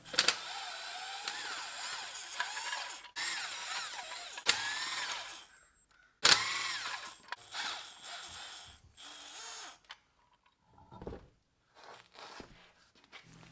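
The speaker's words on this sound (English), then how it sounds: "remove the lug nuts completely and remove the wheel" Power impact tool spinning lug nuts off a Toyota 4Runner wheel, with several whirring, ratcheting bursts separated by short pauses and a few fainter metallic clinks and handling sounds near the end.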